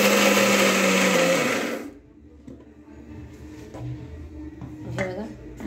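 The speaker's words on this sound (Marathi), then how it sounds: "आता आपण हे मिक्सरमध्ये काढून घेऊया." A mixer grinder whirs loudly while coarsely grinding masala, then stops just before two seconds. Quieter kitchen clatter and handling noises follow, with occasional clinks.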